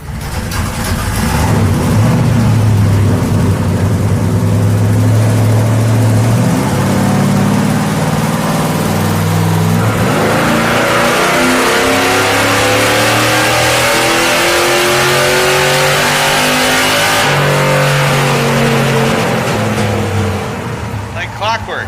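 A roughly 285-horsepower car on a dyno with heavy mud and snow tires revs hard and continuously, its engine pitch climbing and falling in long loud pulls. Voices can be heard faintly under the engine.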